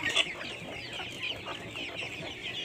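Free-range village chickens on a small farm cluck and squawk at close range, with several short, overlapping calls over quiet barnyard background.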